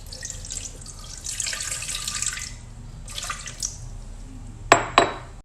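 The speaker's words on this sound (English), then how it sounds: "I'm going to be sticking the gel into the food processor and then my distilled water." Distilled water pours into a food processor bowl holding aloe vera gel in two gurgling streams, close and moderately loud, followed by two sharp clinks.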